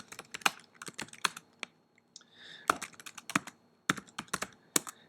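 A title being typed into a student's communication log on a computer keyboard: quick, close, crisp key clicks in uneven bursts, with short pauses between runs of keystrokes.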